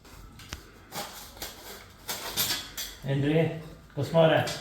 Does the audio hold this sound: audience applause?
no